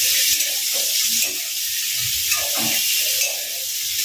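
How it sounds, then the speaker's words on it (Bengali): Bitter gourd pieces being stirred into a sizzling Bengali katla fish curry (kalia), with a steady bright hiss of hot oil and a few soft scraping stirs, close and continuous with no talk. "উচ্ছেগুলো সব দিয়ে দিলাম এর মধ্যে দিয়ে একটুখানি আমি এটাকে ভালো একটু নেড়ে নেবো"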